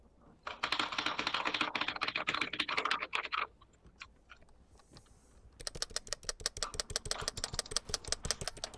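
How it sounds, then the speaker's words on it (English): A mechanical keyboard clacks in fast, dense bursts of typing, close and crisp, pausing briefly in the middle before resuming with another rapid run of clicks. "God, that mechanical keyboard clicking"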